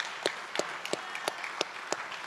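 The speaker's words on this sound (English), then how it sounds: "a big round of applause for Kristen" At a school board meeting, a small group offers sparse, scattered claps, individual hand strikes spaced irregularly and fairly faint over quiet room tone.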